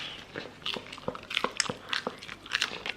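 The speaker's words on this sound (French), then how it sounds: "T'entends, ça croustille et tout." Close, crisp bites and crunching chews into a chilled baguette, with a quick series of sharp crackles spread across a few seconds.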